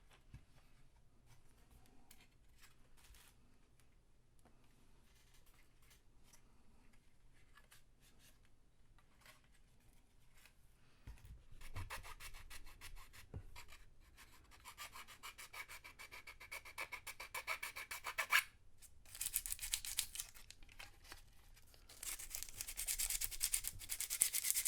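Hand-sanding a plastic Lindberg Dimetrodon model kit: faint, close, irregular rubbing and scratching strokes, quiet at first and then growing louder and more continuous in the second half, with no talking.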